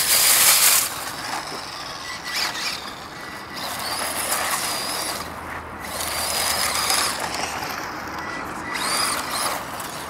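An HPI Mini Recon radio-controlled car drives with a buzzy, whirring small-motor and gear noise. The whine swells and fades in uneven bursts as it moves, close by, with no talk.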